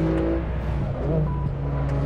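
A BMW M4 G82 Competition engine in Assetto Corsa on the Nordschleife hums along steadily at a moderate load, with a brief pitch rise midway, all close and continuous.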